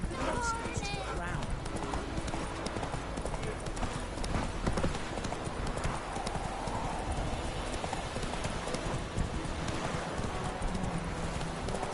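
Roach, the horse in The Witcher 3, pounds along at a gallop with rapid, steady hoofbeats, mixed with game sounds and a voice talking over them.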